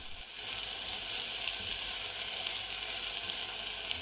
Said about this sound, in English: tip the onion, garlic and pepper into the pan and give that a good stir